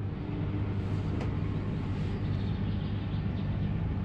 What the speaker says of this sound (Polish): Taki jest hałas klimy. Przy już załączonym kompresorze.